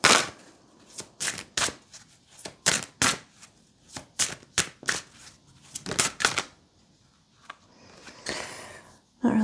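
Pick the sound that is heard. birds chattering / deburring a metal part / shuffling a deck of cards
shuffling a deck of cards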